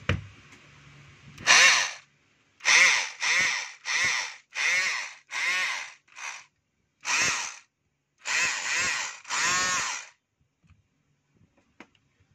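A DeWalt D25032 rotary hammer with a fault, stalling and sparking, fires in about a dozen short, harsh bursts, each roughly half a second long with gaps between, loud and close.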